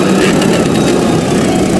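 A Fendt 1050 Vario tractor with a 12.4-litre engine roars under load while pulling a deep plough, a loud, continuous, dense drone up close.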